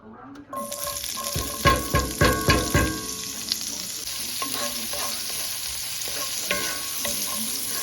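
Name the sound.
potatoes and onions frying in bacon grease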